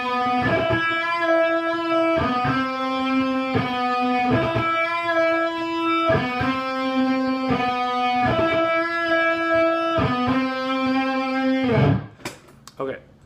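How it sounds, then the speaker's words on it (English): Electric guitar picking a short repeating phrase from a song, a post-chorus transition back into the verse; clear sustained picked notes in a steady rhythm, played alone and close, ending with a scrape and a few muted hits. "there's a picking part, which is just kind of like a post-chorus little transition back into the verse."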